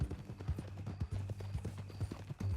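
Horse hooves clip-clop in a steady, fairly close rhythm in the Western video game Red Dead Redemption, a regular string of hoof strikes over a low background hum.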